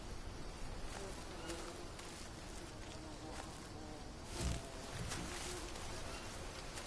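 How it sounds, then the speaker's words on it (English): Bees in the jungle survival game Green Hell buzzing as a soft, steady drone under ambient forest noise, fairly faint and continuous, with a brief thump midway. "I am hearing those bees"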